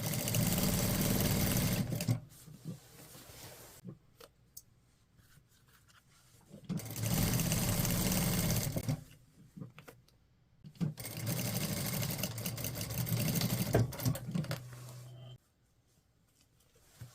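A sewing machine stitches a hanbok waist skirt in three loud, steady runs, each a couple of seconds long, separated by quiet pauses while the fabric is adjusted.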